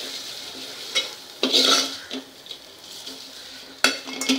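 Turmeric and cumin powder sautéed in a pan for Gujarati kokam dal: soft sizzling broken by several sharp scraping strokes and clinks of a spoon against the metal pan, close and fairly loud.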